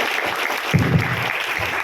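An audience claps for a team at an evening sales-training event, steady close applause with a brief swell in the middle.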